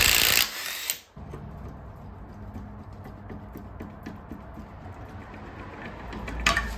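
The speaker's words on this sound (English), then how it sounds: "So I should just be able to impact that off." An impact wrench loosening the 18 mm crank pulley bolt on a Ford F150 engine during a teardown. There is a loud burst of hammering, then a steady mechanical whir and rattle that continues after it.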